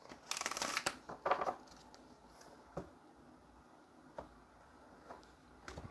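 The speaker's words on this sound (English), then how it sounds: "let's go ahead and get one more shuffle and then we will cut the deck" A deck of tarot cards is shuffled by hand: a quick riffling burst, then a second flurry, followed by a few isolated soft taps and card clicks in a quiet room.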